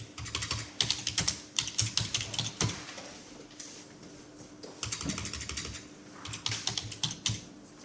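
Rapid keystrokes on a computer keyboard come in irregular bursts with short pauses between them, fairly close and clear, while entering text into an email marketing program.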